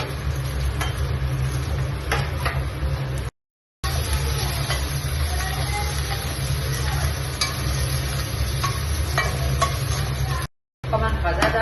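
Ginger-garlic paste fries with a steady, loud sizzle in a pan for chana dal with bottle gourd, while a spoon scrapes and stirs it repeatedly. Two brief drops to silence break the sound.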